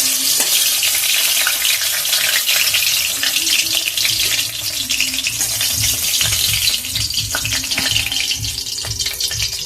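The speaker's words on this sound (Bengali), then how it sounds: "মাছের ওই দিকটাও ভাজা হয়ে গেছে, দেখুন।" Bhola fish sizzles and crackles steadily in hot oil in a pan, a loud, dense frying hiss with faint stirring sounds underneath.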